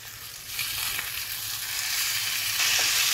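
Potato slices for a Maharashtrian potato bhaji fry in a pan over a low flame, a steady close sizzle with soft stirring scrapes that grows slightly louder toward the end.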